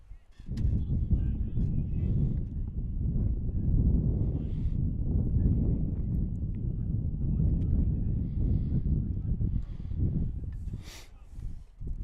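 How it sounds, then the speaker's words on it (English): Gusty wind buffets the microphone at an outdoor high school varsity baseball field in April, a loud continuous low rumble with shifting swells lasting throughout, a few faint higher noises near the end. "Wind is now swirling, blowing from left to right here in Northfield"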